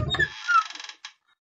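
A wooden door in a horror game about choosing the correct door creaks open with a long, loud, wavering groan, then a short final creak as it settles, with no voices.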